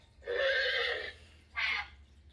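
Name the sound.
horse neigh played by Hasbro Playskool Alphie robot toy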